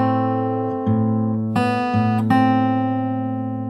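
A fingerstyle acoustic guitar picks a passage from a pop song, with a handful of plucked notes and chords arriving at an unhurried pace, each ringing into the next, close and clear with no voice.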